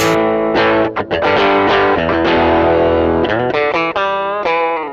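An electric guitar played through a Range Master treble booster pedal, without a tube screamer, gives bright, distorted chords and single notes with a cutting, trebly edge, loud and sustained.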